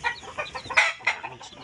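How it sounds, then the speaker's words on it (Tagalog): Black Tiger chicks hatched in January chirp over and over in bright, high peeps, some overlapping, at close range and moderate volume, with no talking. "So ito na yung mga sisiw na sinasabi ko na January born."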